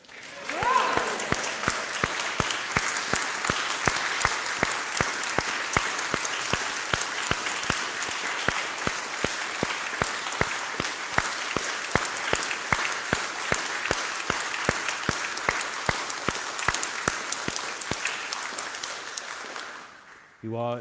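Church congregation claps and cheers at the induction of a new vicar, sustained even applause filling a resonant hall for about twenty seconds before stopping, with voices mixed in.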